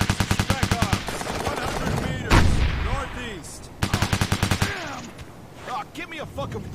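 Gunfire in the video game Operation Flashpoint: Dragon Rising: rapid automatic bursts crackle in two long volleys with a heavy blast between them, while voices talk over the shooting.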